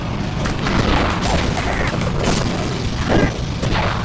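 In the Sonic and the Black Knight video game, boxes are struck and broken amid a steady stream of dense game effects. Booming impacts and rapid crunching bursts sit over a constant loud mix.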